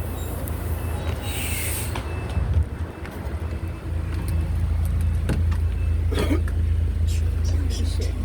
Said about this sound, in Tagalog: Ayan na yung bus, Pachongli.